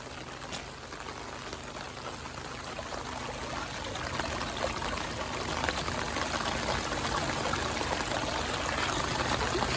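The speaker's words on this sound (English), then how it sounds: "So we have a wet weather creek that we're gonna go check. But look how hard this water's flowing through here." A swollen wet-weather creek rushes hard across farm ground toward a pig pen, a steady broadband roar of flowing water that grows slightly louder over time, close by with no voices.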